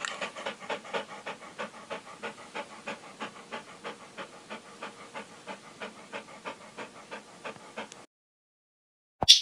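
A dog pants rapidly and steadily in a quick rhythmic series of breaths, close to the microphone, stopping abruptly near the end before a brief faint sound.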